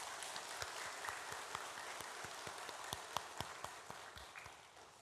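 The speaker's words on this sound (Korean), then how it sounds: "박수 한번 더 하도록 하겠습니다" Soft, distant applause comes from a church congregation at a Sunday morning children's-day service, a faint patter with a few sharper individual claps standing out.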